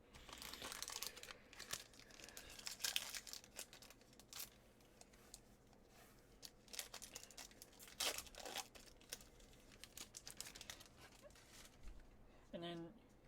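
Wilds of Eldraine booster packs being torn open up close, with crinkling wrapper and ripping bursts that come and go over a quiet background and a faint voice.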